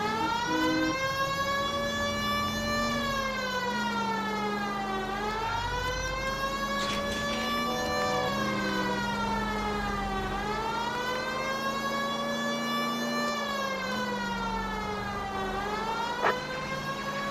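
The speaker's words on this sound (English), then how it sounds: "Turn on the siren." An emergency vehicle siren wails continuously, rising and falling in long sweeping cycles, loud and close, with no talking over it.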